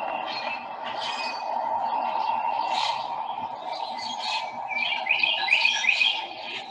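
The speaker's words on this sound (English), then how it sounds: "towards the end there, you hear the Carolina Wren." In a muddy, flooded backyard, a Carolina Wren sings a run of quick repeated phrases toward the end, rising above scattered bird chatter and a constant droning background hum.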